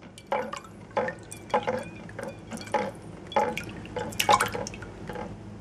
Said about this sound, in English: Seesaw the casings back and forth with the water inside.